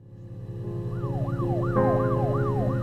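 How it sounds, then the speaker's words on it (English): A wailing siren rises and falls repeatedly, growing louder over a steady low traffic rumble, with a second siren tone joining near the end. "The sirens outside?"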